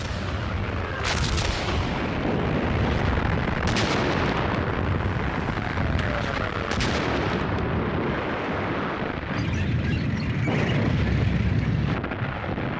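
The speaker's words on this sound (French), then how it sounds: "Les canons allemands écrasent les positions ennemies." German artillery guns fire in the Second World War siege of Tobruk in Libya, heavy booms repeating every few seconds over a dense, loud roar of battle noise, no talk heard.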